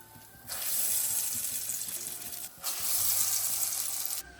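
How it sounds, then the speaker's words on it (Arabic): Falafel frying in hot oil gives off a steady, fairly loud hiss and sizzle in two long bursts with a brief drop between them. "نقلي بقى الفلافل"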